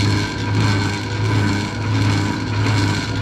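Motor and chain of a DIY Surron-conversion electric wakeboard winch running steadily, a loud continuous electric whine with strong low tonal hum, close and alone.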